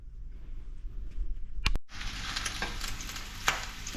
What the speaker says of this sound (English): They're just sizzling away nicely now.